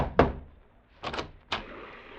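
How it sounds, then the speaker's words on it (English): Knocking on a cabin door aboard a ship anchored off Bangkok in a 1950s radio drama: a few solid thuds, one sharp hit followed by two quick duller raps, with no voices. "Slaughter rapped on the door."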